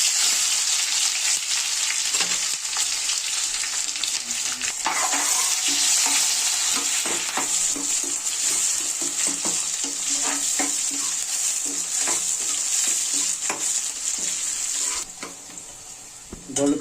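Onions fry in hot oil with dried red chilies for mutton dalcha, a loud steady sizzle overlaid by repeated scraping strokes of a spoon stirring the pan, easing slightly near the end.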